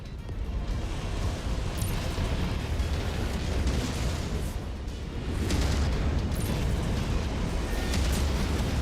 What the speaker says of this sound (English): Blasted that target into oblivion. Target destroyed.